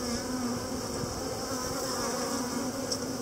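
Honey bees buzz steadily and densely around a frame lifted from a five-frame nucleus hive, a continuous close, even drone with no talk.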